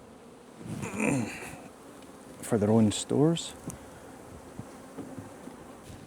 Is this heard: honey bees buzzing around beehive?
yes